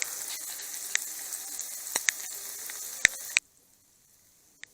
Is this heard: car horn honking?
no